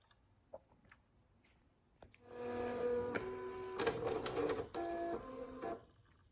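A 1994 Apple StyleWriter printer starts up after a few faint ticks and runs steadily for about four seconds, with a whirring, buzzing mechanical print pass that has brief pitch shifts and a short pause near the end.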